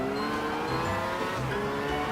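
Race car engine in Gran Turismo 6 holding a steady, loud, harmonic drone with slight pitch shifts, close and continuous for the whole short stretch, with no talking.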